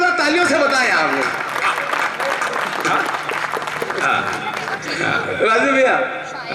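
Audience at a Hindi poetry gathering (kavi sammelan) in Sujangarh applauds with sustained, lively clapping that swells and dips, mixed with crowd noise while a voice talks over it.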